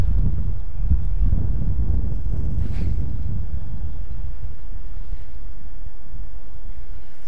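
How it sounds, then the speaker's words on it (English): Wind buffets a microphone outdoors on a fishing outing, a loud, close, low rumbling roar that swells and surges steadily throughout, with a faint rustle partway through and no talk. "And there's the wind."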